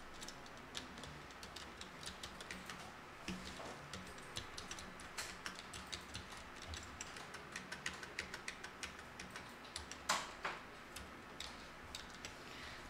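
Keys clatter quietly on a computer keyboard while a name and ID number are entered into an online government form, a faint irregular run of light clicks with one louder tap near the end.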